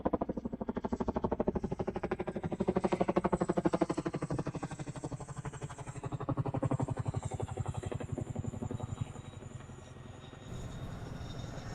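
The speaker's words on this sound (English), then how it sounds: "you can actually see the helicopter as it flies by" Military helicopter passing overhead during an airborne drop exercise, its rotor beating in a steady rapid chop that stays loud for several seconds before easing off slightly as it moves away; no talking.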